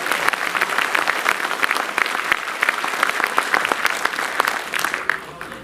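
Crowd at a railway workers' gathering with a government minister claps loudly and continuously, the applause holding strong before tapering off at the end, with some voices mixed in.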